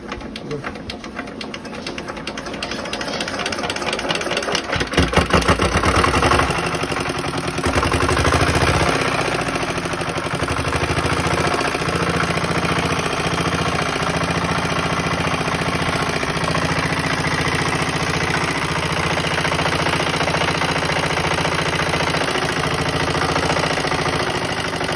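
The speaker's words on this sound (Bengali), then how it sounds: "এখন আপনাদেরকে ইঞ্জিনটা স্টার্ট করে ইঞ্জিনের সাউন্ড কোয়ালিটিটা শোনাবো" An old 4–5 HP China diesel engine starts up with a rough burst, then settles into a continuous loud, rhythmic idling chug that stays steady throughout.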